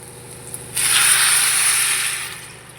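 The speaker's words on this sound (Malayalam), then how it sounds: "ആ വെള്ളം തന്നെ ഈ അച്ചാറിലേക്ക് ചേർത്ത് കൊടുക്കുക." Gooseberry blanching water, cooked with turmeric and salt, pours into a pan of gooseberry pickle. A steady, close splashing hiss starts suddenly about a quarter of the way in and fades slightly toward the end.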